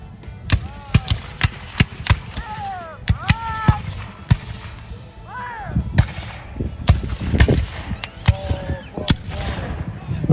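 Civil War reenactment cannons fired with friction primers, a long series of sharp, loud booming reports with irregular spacing, some in quick pairs, each followed by a brief rumbling echo over faint crowd noise and talk.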